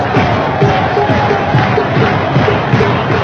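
Big baseball crowd at Shea Stadium during a sold-out playoff game, a dense, steady roar of many voices with scattered cheers and shouts, loud and continuous throughout.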